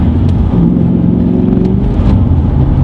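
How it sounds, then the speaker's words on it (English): A Ford Falcon XR ute V8 engine rumbles steadily and loud throughout, holding a deep, continuous revving note with no voices over it. "I just love the symphony of a V8"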